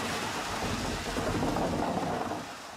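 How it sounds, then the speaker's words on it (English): Theatrical special-effects thunder rumbles over a steady hiss of simulated driving rain, a continuous loud wash with a deep rolling boom building through the middle before easing off. "And menacing thunder."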